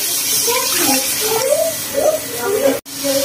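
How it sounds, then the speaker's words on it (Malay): Stock water poured into a pot for Maggi instant noodles makes a loud, continuous splashing gush with bubbly gurgles, close by, briefly cutting out near the end before resuming. "mula-mula sekali masuk air stok air"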